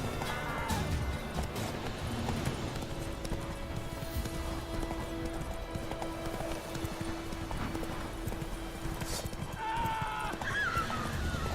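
A horse galloping in the video game The Witcher 3, rapid drumming hoofbeats running continuously under game sounds, with a whinny near the end.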